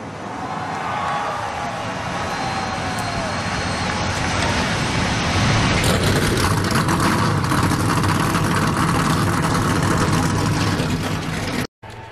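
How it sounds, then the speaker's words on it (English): Several NASCAR stock car engines fire up and rev together, a loud sustained roar that swells and thickens about halfway through, then cuts out abruptly for a moment near the end. "start your engines"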